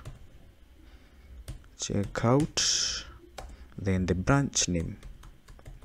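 Keys clatter on a computer keyboard as a git checkout command is entered in a terminal, close clicks running under a man's speech that breaks in and out of the typing.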